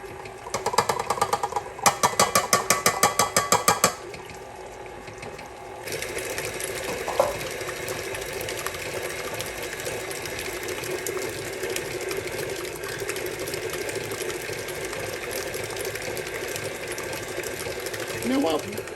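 Stand mixer beating applesauce into cake batter, starting with a loud rapid rattling burst, then settling into a steady motor whir that runs on with faint speech over it.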